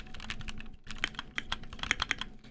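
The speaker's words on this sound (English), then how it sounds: "I start typing something actually, and then I just give up and start gibberish." Fingers typing on a mechanical keyboard, a rapid, uneven run of crisp clicky keystrokes close to the mic with a brief pause partway, no voices.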